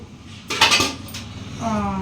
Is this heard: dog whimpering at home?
no